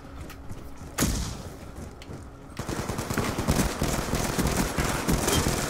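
Rapid bursts of automatic gunfire in Call of Duty: Black Ops 2, a sharp report at the start and then dense, sustained rattling shots over busy in-game background noise.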